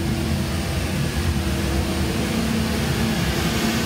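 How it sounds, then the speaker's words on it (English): Airflow roaring steadily through an S&B KF1035 air filter at 900 CFM, a dense, loud, constant rushing whoosh with a low hum underneath, unbroken throughout with no talking. "That's 900 CFM being pulled through this filter."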